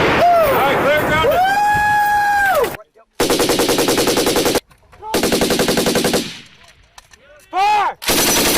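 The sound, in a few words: US Army M240 and M249 machine guns firing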